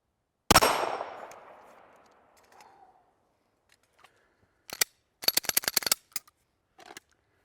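In a competitive shooting drill, a sharp, loud gunshot rings off a steel target, followed by a few seconds of quiet and then a rapid string of clacking shots and impacts, some closer together, without talk.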